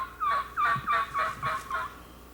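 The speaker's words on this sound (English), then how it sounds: "you can hear the gobblers" A wild turkey gobbler gobbles in a rapid burst of six warbling calls from across a field, moderately distant and outdoors against a quiet background.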